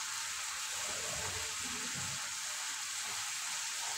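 Spicy chicken pasta masala with red chilli sauce and soy sauce fries in a pan, a steady close hiss and sizzle with faint stirring scrapes and no voices.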